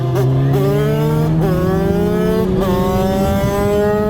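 A motor vehicle accelerates loudly nearby during a motorcycle ride, its engine whine climbing in pitch through several gear-like steps, close and continuous with steady wind rumble.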